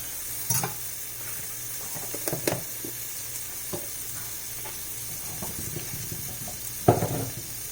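Butter sizzles softly in a pan with whole Brussels sprouts, a steady faint crackle with a few brief clatters of stirring scattered through.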